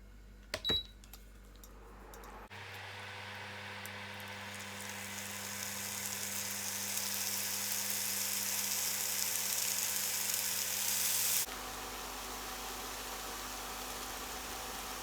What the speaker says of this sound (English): In the same pan, I'm just going to stir fry my kimchi a little bit.